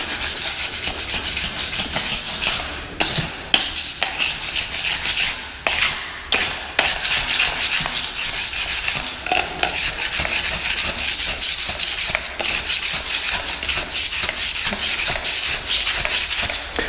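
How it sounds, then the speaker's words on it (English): A hand scraper rasps over a floor, stripping old adhesive in long repeated gritty strokes with brief pauses between passes, loud and close with no talking. "Also want to try the hand scraper to see if that works any better."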